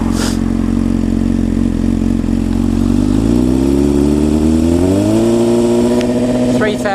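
Honda CBR600F motorcycle engine fitted with a Black Widow exhaust with the baffle removed, idling loud and close with a steady burble, then revving up and holding at higher speed.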